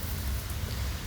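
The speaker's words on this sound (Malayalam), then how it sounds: "മഴ പെയ്തുകൊണ്ടിരിക്കുക" Steady rain falls in the Ooty hills of the Nilgiris, a dense, even hiss with a low rumble underneath, continuous and fairly loud throughout with no voices.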